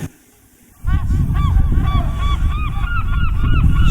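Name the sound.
seagulls squawking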